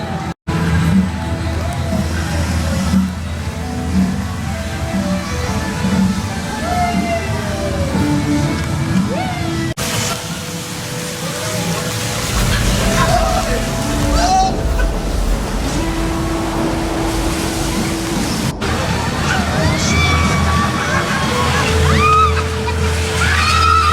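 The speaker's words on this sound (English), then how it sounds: "There we go, a little water ride there." The Buffalo Falls water ride at Paulton's Park sloshes and splashes continuously, with a rumbling ride mechanism and rushing water swelling near the end, and faint background voices.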